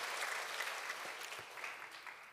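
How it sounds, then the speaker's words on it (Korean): Congregation applause in a church service after an interview, a dense, steady wash of many hands clapping at moderate distance and fairly faint, fading slightly toward the end. "우리 한번 박수로 격려하고 축복했으면 좋겠습니다"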